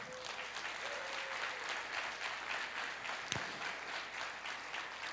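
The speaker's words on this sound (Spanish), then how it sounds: "¿Por qué no le das un aplauso al Señor?" Congregation applauding the Lord during a Spanish-language church service, a steady wash of clapping that fills the whole stretch at even loudness, with no speech over it.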